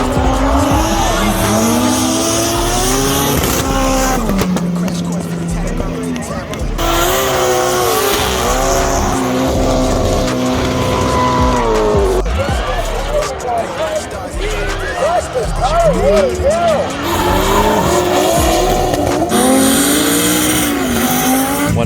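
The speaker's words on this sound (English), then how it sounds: "Night drifting goes off." Cars drifting at a night drift event in Queensland, tires squealing and engines revving hard in long continuous runs, loud and close throughout, with people talking over the noise.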